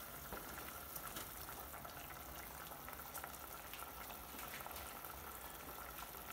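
Noodle broth with sausages and linguiça bubbling in a pot, a steady close hiss and crackle of simmering liquid running throughout with no voices.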